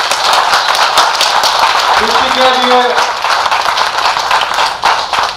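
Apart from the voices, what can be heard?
audience applause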